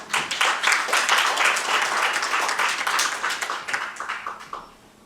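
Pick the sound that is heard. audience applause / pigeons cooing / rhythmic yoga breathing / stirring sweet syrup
audience applause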